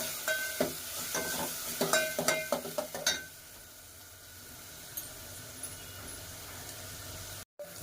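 Tomatoes, onions and a little coriander sauté in a pan for bazaar amti: a burst of clattering stirs and spoon knocks over the first few seconds, then a faint, quiet sizzle that carries on alone.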